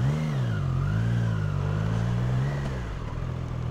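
A Triumph Tiger 660 Sport motorcycle pulls away in first gear, its mid-pitched engine note rising and wavering steadily up close, then easing slightly toward the end, with no talking.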